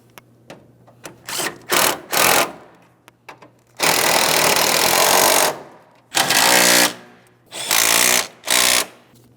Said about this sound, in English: Let's go ahead and snug them up.